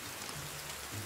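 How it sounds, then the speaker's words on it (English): Rain falling in a survival-building video game, a steady, dense hiss of rainfall with no distinct drops or voices, continuous and fairly quiet throughout. "Oh, it's raining!"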